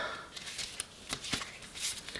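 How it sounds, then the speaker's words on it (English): Tarot cards shuffled by hand in a few quick riffling bursts, close and fairly quiet, with no talk over them. "I'm just going to shuffle these cards and then cut them in half"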